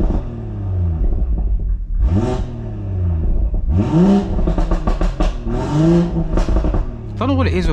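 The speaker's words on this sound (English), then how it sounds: "you rev it fine, but then if you press it again quick, it goes like, just drags" A BMW M140i Shadow Edition tuned to 475 bhp revs up repeatedly, its engine note sweeping upward in several distinct surges over a low idle rumble, heard close from inside the car.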